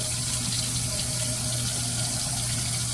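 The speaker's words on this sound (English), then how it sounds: "So let's get this brush wet." Tap water runs steadily into a sink to wet a shaving brush, a close, continuous splashing hiss with no pauses.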